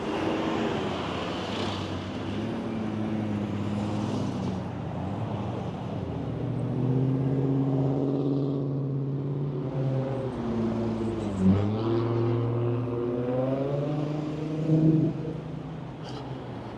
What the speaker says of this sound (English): A lot of traffic down here, of course, because of the freeways that cut through downtown Las Vegas.